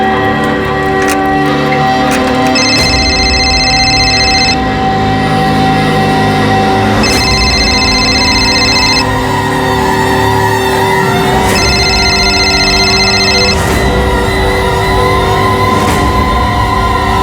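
A telephone rings unanswered in a loud scene, bursts of bright electronic trilling repeating at regular intervals over a dense background of sustained tones and noise.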